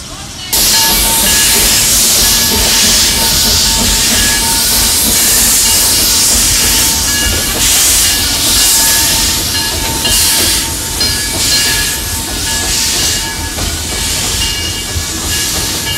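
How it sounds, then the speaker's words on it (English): Loud, continuous hissing of steam from a nearby locomotive in Cuba, broad and roaring, with faint whistling tones and mechanical clatter underneath. "Train awaits, and off we go."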